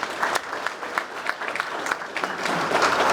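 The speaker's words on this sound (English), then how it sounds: "Please, a round of applause for WOW." An audience at a chamber of commerce breakfast business event applauds, dense steady clapping from many hands filling the whole stretch and swelling slightly toward the end.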